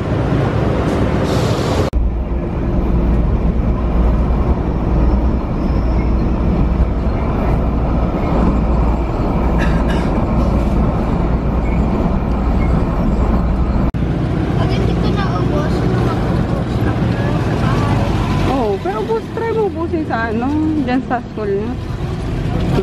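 A loud, continuous rumble of a light rail (LRT) train running along rails, with rattling and a squealing whine near the end, while people talk over it.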